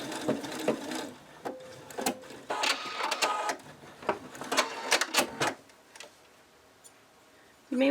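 A sewing machine stitches the beak seam on a cockatiel plushie, giving bursts of rapid mechanical ticking and whirring in short runs with pauses, close and fairly loud, then quieter toward the end.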